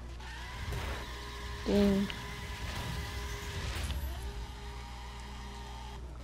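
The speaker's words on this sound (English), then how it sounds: "Oh, we driving a Lamborghini." A Lamborghini engine hums steadily while driving in the video game The Crew, holding a low, continuous drone under casual talk, with a brief louder swell partway through.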